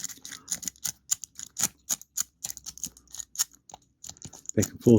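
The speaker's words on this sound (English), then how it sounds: "I'm going to shuffle the wheels" The dials of a Master Lock 653D combination lock are spun and shuffled by hand, giving rapid, irregular small clicks and ticks close up, with brief pauses between bursts.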